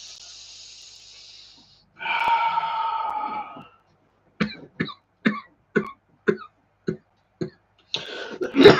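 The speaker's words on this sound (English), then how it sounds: "Coughing is just me clearing." A person coughs and clears the throat, first a breathy rasp and throaty hack, then a run of seven short, sharp coughs evenly spaced, close and fairly quiet, ending in another rough exhale.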